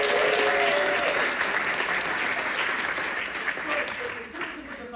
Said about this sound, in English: Give a round of applause for Brandon.